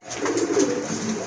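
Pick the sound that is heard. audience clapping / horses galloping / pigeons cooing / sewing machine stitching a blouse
pigeons cooing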